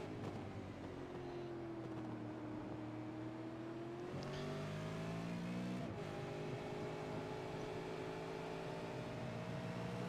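A V8 Supercar racing at Indianapolis drones steadily from a distance, its engine note climbing and shifting as it powers out of the final corner, with a continuous broadband roar underneath.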